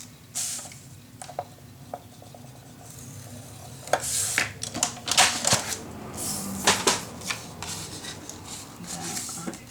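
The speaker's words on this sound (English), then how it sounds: "I make a score line." A scoring tool dragged across paper for a crafting mini album, giving light scratchy strokes and soft clicks at first, then a denser run of louder rasping scrapes, close and with no voices.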